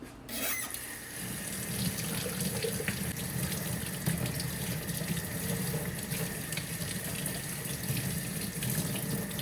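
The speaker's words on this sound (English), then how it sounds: "We're just going to rinse out his little cavity." Tap water pours in a steady, close stream while the body cavity of a blue crab is rinsed out, a constant splashing rush from start to finish.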